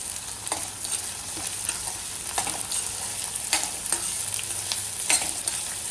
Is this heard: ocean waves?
no